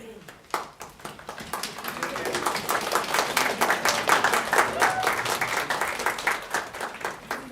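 Audience applause at a school board meeting, a dense burst of many hands clapping that builds and stays steady for several seconds, with murmuring voices beneath.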